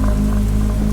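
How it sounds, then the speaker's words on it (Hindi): Steady rain falls outside a shop at night, making a dense, continuous patter with a low rumble underneath. It is loud and close, and no one is talking. "बारिश की आवाज गूंज रही थी।"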